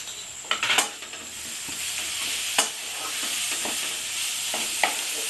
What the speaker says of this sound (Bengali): পেঁয়াজ আদা রসুনটা ভালো করে ভেজে কষে নিতে হবে